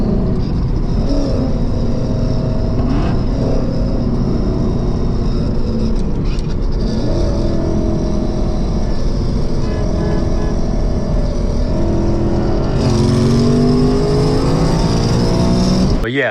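Ford Mustang driving and revving, a loud engine roar that rises and falls through gear changes, climbing in a sharp rev near the end, with some talk over it.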